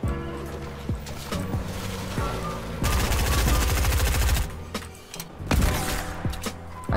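Sniper rifle fire in Fortnite amid loud gameplay, with sharp cracking shots and dense bursts of rapid fire, close and prominent, without talk.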